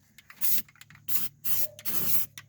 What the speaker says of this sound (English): If you want, you can spray the fender well.